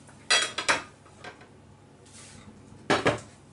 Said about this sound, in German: Das Fleisch war jetzt insgesamt eine halbe Stunde im Rohr und kommt jetzt raus auf einen Teller.